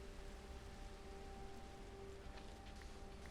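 Rain falls in Minecraft as a faint, even, continuous hiss of soft patter with a steady low rumble underneath and no distinct drops standing out.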